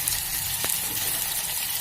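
Curry leaves hit hot oil and set off a steady, close, bright sizzle that hisses evenly throughout, with no talking.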